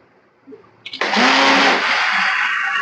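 A blender whirs up a banana milkshake: a short hesitant start-up, then a loud, steady, close motor roar that holds evenly to the end.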